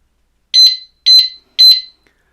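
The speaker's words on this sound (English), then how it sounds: "If someone continues to try to tamper with your vehicle, they're going to get that." An anti-theft disc brake alarm lock on a motorcycle sounds three loud, shrill electronic beeps in even succession, each short and piercing, with silence between.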